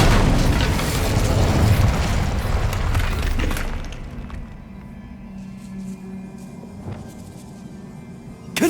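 A fire spell blast in Hogwarts Legacy: a loud, dense roaring burst for about four seconds that drops away to a quieter low rumble and faint crackles, with a sharp pop at the very end.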